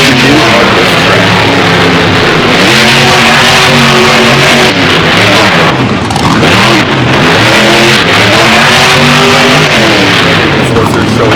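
Monster truck engine in the BeamNG video game, a loud, continuous revving roar with repeated rising and falling pitch sweeps as the throttle opens and closes, dominating throughout with no voices.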